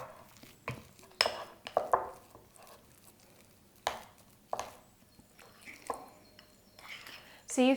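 Cold, thick coconut cream is mixed by hand in a bowl for a dairy-free chocolate mousse. Scattered scraping and tapping knocks come from the utensil against the bowl, and a voice talks quietly in between.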